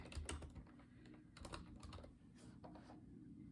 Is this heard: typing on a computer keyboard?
yes